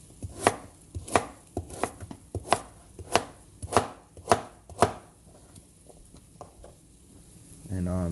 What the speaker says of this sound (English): so you're gonna cut up the pumpkin like this